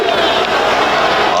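Loud, continuous roar of a home crowd cheering at a Florida State Seminoles college football game against Pittsburgh, a dense wall of massed voices with whoops rising out of it, steady and unbroken throughout.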